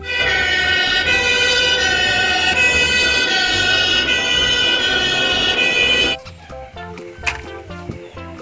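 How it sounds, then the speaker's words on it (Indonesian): A toy fire truck siren blares loudly and close with a steady electronic wail for about six seconds, then cuts off abruptly, leaving a few quiet clicks and handling noises. "Wow, mobil pemadam kebakaran."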